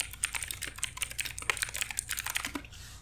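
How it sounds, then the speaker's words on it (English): Rapid clattering keystrokes on a computer keyboard during a Planescape: Torment Enhanced Edition session, dense and close, tapping continuously for about three seconds before stopping abruptly. "I'm trying very hard to move my keyboard far away."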